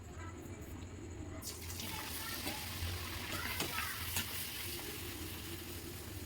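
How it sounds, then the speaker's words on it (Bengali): Palm-fruit luchi fry in hot oil: a sudden bubbling hiss swells up and then holds as a continuous close sizzle with scattered pops over a low background hum. "তালের লুচি এবারে ভেজে নেব।"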